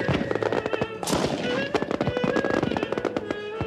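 Fireworks burst in a rapid, crackling barrage of sharp loud bangs at a professionally fired display, the explosions coming thick and fast with a sizzling hiss between them.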